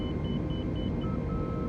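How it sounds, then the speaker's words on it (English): Cockpit alert in an A320 in Microsoft Flight Simulator 2020, sounding as the aircraft picks up a VOR signal, a faint repeating high beep pattern over a steady engine rumble. "That alarm you hear there is just the aircraft picking up the VOR signal."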